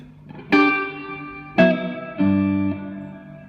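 Three plucked electric guitar notes ring out one after another, each sustaining and decaying with a soft, subtle reverb tail in a quiet space.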